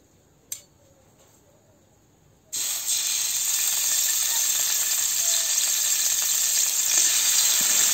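Marinated pork hits hot cooking oil over medium heat, bursting into a loud, steady sizzle and hiss that continues to the end after a quiet start with a single small knock.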